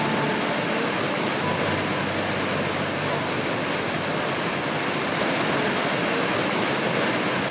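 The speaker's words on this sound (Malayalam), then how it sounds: "കേരളത്തിൻ്റെ നയാഗ്ര എന്ന് സഞ്ചാരികൾ വിശേഷിപ്പിക്കുന്ന മനോഹരമായ വെള്ളച്ചാട്ടം" Athirappilly waterfall in Kerala, water plunging about 24 metres, gives a constant dense roar of falling water, loud and unbroken throughout with no talk.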